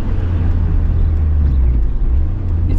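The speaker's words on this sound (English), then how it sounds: "Like that's all muffler noise right there." A GD3 Honda Fit fitted with an HKS Hi-Power muffler rumbles close by, a deep, steady exhaust drone with slight swells as the engine note rises and falls.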